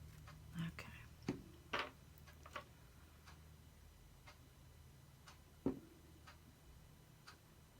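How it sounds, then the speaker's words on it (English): A clock ticking faintly and steadily in a quiet room, with a few louder irregular knocks and clicks of crafting work on a table standing out over it. "Y'all can hear the ticking of my clock, can't you?"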